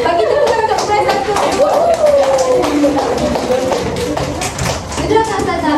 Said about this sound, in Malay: bagi tepuk tangan untuk kelas satu